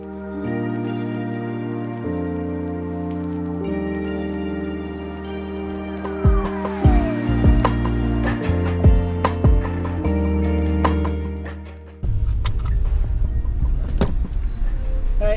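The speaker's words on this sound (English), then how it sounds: "We're driving through Clarkston, Michigan now." A car drives through Clarkston, Michigan with a steady engine drone that shifts pitch through gear changes and acceleration, loud and close inside the cabin, with a rougher road rumble near the end.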